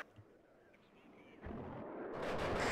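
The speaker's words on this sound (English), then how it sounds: "And now it drops the cluster. So, yeah, it comes in double. HE bombs first. And then cluster afterwards." Cluster bombs dropping after high-explosive bombs in a video game: faint rumble at first, then a swelling roar of rolling explosions building loudly toward the end.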